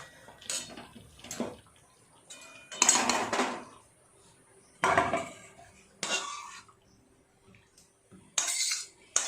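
Aloo dum, cooked down until dry, is scraped and poured out of a metal cooking pot, giving separate bursts of clanking and scraping with quiet gaps between them.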